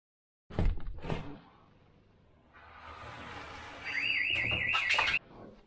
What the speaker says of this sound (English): We're going to make sure the siren goes off and you'll be able to hear the siren outside.